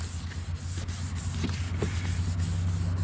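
Steady, close scratchy rubbing of 1000-grit sandpaper across a car headlight lens, with faint repeated strokes over a constant low hum and no talking.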